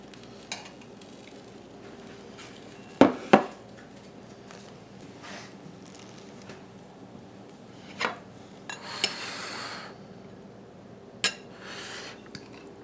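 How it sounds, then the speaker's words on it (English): Coleslaw being served into a bowl with utensils: a few sharp clinks of metal against dishware and soft scraping over a quiet kitchen background, with sparse taps spread through the clip. "I'm going to grab some, put it in a bowl"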